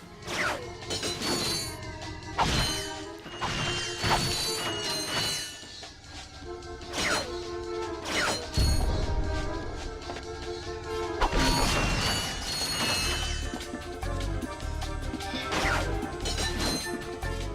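Explosions and smashing crashes go off in Ratchet and Clank HD, a series of loud sharp bursts and thuds spread over a busy game soundtrack.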